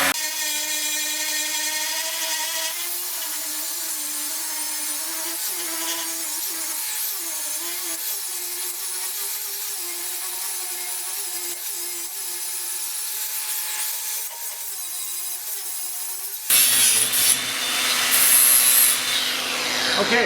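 A power grinder working a weld on the trimmed front bumper of a Pontiac Catalina 4x4 project, a steady loud whine that drifts in pitch and then shifts to a harsher, brighter grind near the end, with no talk.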